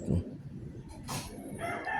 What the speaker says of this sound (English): Ooh, that's a bird.